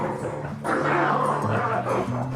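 A fat little dog sits in an inflatable Alpacka Scout packraft in a South Carolina swamp, letting out high, thin yips and drawn-out whimpers close by and fairly quiet.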